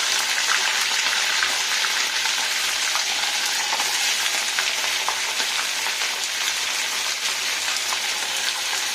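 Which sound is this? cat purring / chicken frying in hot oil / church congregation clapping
chicken frying in hot oil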